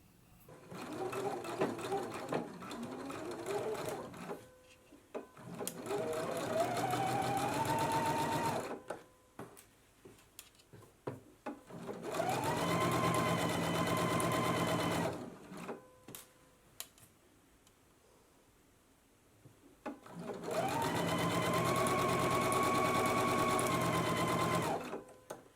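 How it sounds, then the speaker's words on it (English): A sewing machine runs in four steady bursts with short pauses between them, stitching the sleeve seams of a summer dress at a 5/8-inch seam allowance. Each burst is a close, even whir. "you want to go ahead and stitch at a 5/8 of an inch seam allowance"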